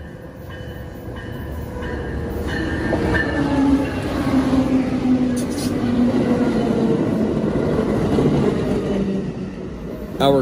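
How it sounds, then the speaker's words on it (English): An Amtrak River Runner passenger train, number 318 from Kansas City, arrives at a station, pulled by a pair of Charger locomotives with Viewliner baggage cars and Siemens Venture coaches, rumbling close by with wheel squeal and rolling clatter that holds steady for several seconds. "train number 318 arrives from Kansas City"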